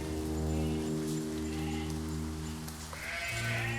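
Sheep bleat faintly through steady rain in a forest pasture, a drawn-out call rising near the end over a constant hum of rain and low droning background noise.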